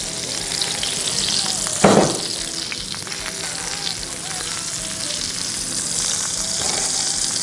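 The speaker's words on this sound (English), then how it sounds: "Hear that sizzle, the smell of the steak, smell of the butter." Ribeye steak sizzles in a skillet with brown butter, a steady crackling hiss throughout with a sharp louder burst near the start, no talking.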